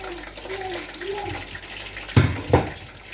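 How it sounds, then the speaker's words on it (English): Chicken stock poured into a cooking pot for stew and okro soup gives soft liquid splashing and trickling, with two louder sloshing splashes near the end, faint and close, with a little murmured background. "So I'm pouring in my chicken stock now."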